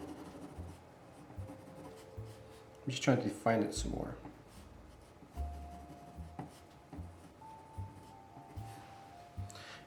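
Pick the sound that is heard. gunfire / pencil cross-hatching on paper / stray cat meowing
pencil cross-hatching on paper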